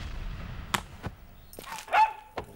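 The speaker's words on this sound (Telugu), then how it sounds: "కుక్క అరుస్తోంది." A dog barks a few times at a distance in an indoor comedy scene, giving short sharp yelps spread across a couple of seconds over a low background hum.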